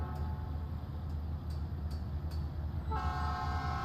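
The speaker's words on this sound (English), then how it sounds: "There's a train going by somewhere." A long train passing somewhere in a town during an American Truck Simulator drive, a steady distant rumble of rail cars with faint rhythmic clacks and a tonal horn-like note rising near the end.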